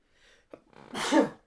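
A single close sneeze, a quick intake of breath followed by a sharp, loud burst.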